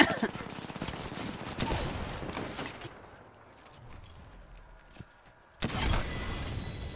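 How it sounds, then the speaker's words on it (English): Rapid automatic gunfire rattles in bursts during a match of Apex Legends, followed by quieter game effects and then another sharp burst of shots, with a player talking over it. "Let me shoot him."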